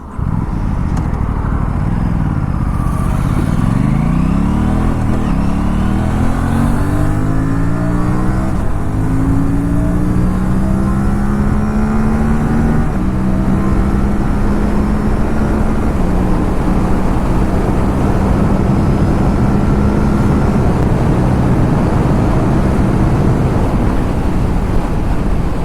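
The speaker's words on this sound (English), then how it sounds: "I will just be giving the throttle. I will not let go of the throttle. I will not use the clutch. I will just use the gear shifter to change the gears" An Aprilia RS 457 motorcycle accelerates hard on a highway, its engine rising in pitch through several quickshifter upshifts without a break in power, loud and close over strong wind rush, no talking.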